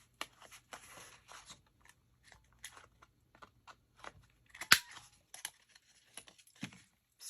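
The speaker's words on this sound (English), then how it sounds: "I'll do that with the scissors" Scissors snip quietly in short, irregular cuts while rounding off paper corners, with soft rustling of paper between them and one sharper crisp snip near the middle.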